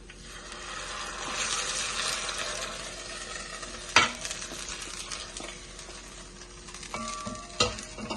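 Garlic mixture stirred into a pot of chopped mlokhia as it cooks, giving a steady sizzle with scraping and clinking utensil sounds and a couple of sharper knocks against the pot.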